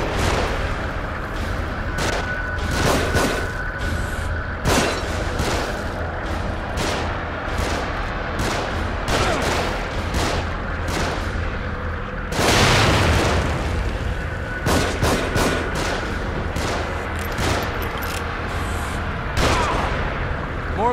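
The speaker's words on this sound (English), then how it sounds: "Shooting from above." Gunfire from above in The Evil Within, with repeated loud, sharp shots and bursts scattered throughout, some in quick clusters, and one heavier blast partway through, against steady game background noise.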